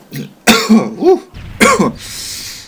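Several harsh, hacking coughs in quick succession, close up and loud, with a throat-clearing quality.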